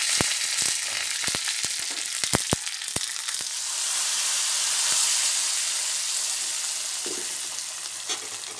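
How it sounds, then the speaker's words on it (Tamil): Mustard seeds and urad dal splutter in two spoons of hot oil in a small tempering pan, sharp pops crackling rapidly over the first few seconds, then settling into a steady close sizzle with occasional late pops. "ஒரு தாளிப்பு கரணியில் ரெண்டு ஸ்பூன் எண்ணெய் ஊற்றி ஒரு ஸ்பூன் கடுகு ஒரு ஸ்பூன் உளுத்தம்பருப்பு போட்டிருக்கேன் கடுகு உளுத்தம்பருப்பு பொரிஞ்சிட்டு"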